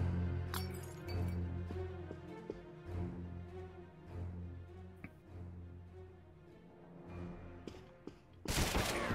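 Gunfire in Counter-Strike: Global Offensive on the Office map, a series of sharp shots and metallic clinks scattered over a low background rumble, ending in a louder burst.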